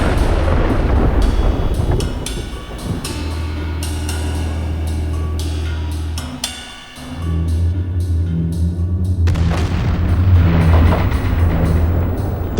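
A deep, sustained rumbling roar from a mine explosion at Pike River, with a heavy low boom near the middle, then the rumble surges back louder, like a distant blast.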